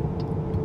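Engine of a 2023 Jeep Grand Cherokee L Summit three-row SUV accelerating up to highway speed, a steady low rumble of road and engine noise heard from inside the cabin, with no talk.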